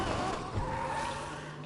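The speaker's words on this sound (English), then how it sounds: "You're gonna do a burnout." Video-game car doing a burnout in Need for Speed Unbound, engine revving with a sustained tire squeal that holds steady throughout.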